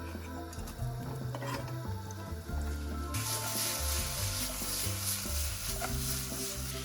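Onion frying in oil in a pan: a steady dense sizzle that swells louder partway through, with occasional stirring scrapes and clinks against the pan.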